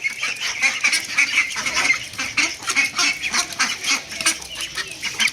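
A flock of geese and ducks honk continuously, loud overlapping calls in a busy, chattering chorus with no talking.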